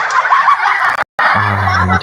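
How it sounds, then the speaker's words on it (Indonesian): A duck calls loudly and up close over a steady noisy background, with a brief gap before a nasal, harmonic quack. "Ternyata bebek"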